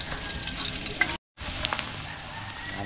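Onion and garlic sauté in Star margarine for a kaldereta, a close, steady sizzle with light stirring scrapes and a short break partway through, no talking.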